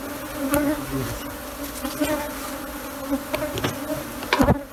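A swarm of Africanized honey bees buzzing close by in Paraty, Brazil, a dense continuous drone with steady hum and occasional louder passes near the microphone, no voices.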